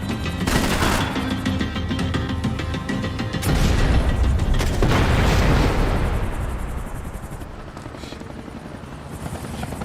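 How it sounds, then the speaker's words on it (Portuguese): Missile shot in the Max Payne 3 video game, set against a heavy helicopter rotor thrum, with a loud explosion bursting midway and rumbling before fading back into the chopping drone. "Esse tiro no míssil aí foi pra ti."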